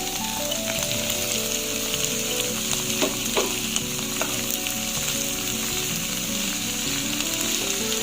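Mustard greens sauté in a hot pan with a dense, steady sizzle and crackle, stirred now and then with faint scraping, continuous and close.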